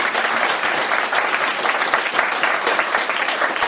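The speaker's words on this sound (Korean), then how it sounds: "큰 박수 한번 부탁드립니다." An audience at a philosophy colloquium applauds after a lecture: steady, dense clapping from many hands, fairly close and sustained throughout without pause.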